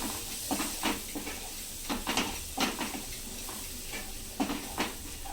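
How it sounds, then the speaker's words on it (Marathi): Turmeric and finely chopped coriander being sautéed in a pan for a cluster bean (gavar) bhaji: a steady sizzle under repeated scraping spatula strokes, close and clear, with no talking. "थोडीशी हळद, बारीक चिरलेली कोथिंबीर, ह्याला पण परतून घ्यायचं आहे।"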